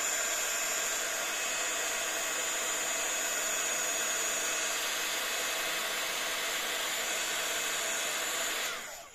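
Hair dryer blowing on wet paint on a paper craft card, a steady continuous airy whir held close for several seconds before it cuts off at the end.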